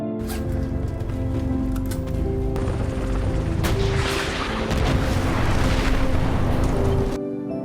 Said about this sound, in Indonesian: Kemudian datanglah sebuah helikopter musuh yang memaksa mereka segera keluar dari rumah.